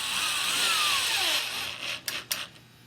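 A power drill whines steadily, its pitch sliding as it drives a screw into the wood of a stretcher frame, then stops, followed by two sharp clicks or knocks.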